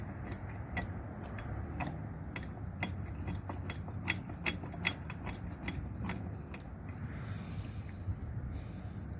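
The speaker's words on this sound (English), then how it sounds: "So here, open up my vise." A bench vise being cranked open in a workshop: a quick run of sharp metallic ticks and ratcheting clicks, close by, over a low steady background hum.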